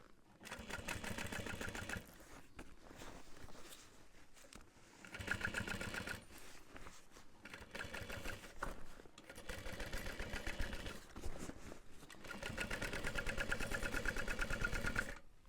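A sewing machine stitches backpack pieces together in quick, rapid bursts, with brief pauses between runs and a longer steady stretch at the end, close and fairly quiet.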